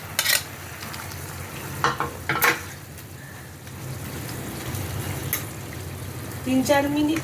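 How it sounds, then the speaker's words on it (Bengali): Pointed gourds tipped into a pan of bubbling curd gravy, steady sizzling and stirring with a few louder clattering bursts, close by. "এখন এই পটলগুলো সব আমি এর মধ্যে দিয়ে দেবো"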